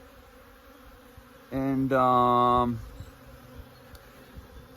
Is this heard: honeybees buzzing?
yes